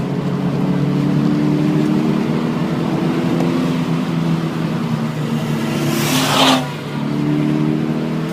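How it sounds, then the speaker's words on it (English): A Subaru BRZ at full throttle on the Infineon race track gives a loud, sustained engine drone with the pitch climbing steadily, then dipping briefly at a gear change before rising again. "Track out, full throttle."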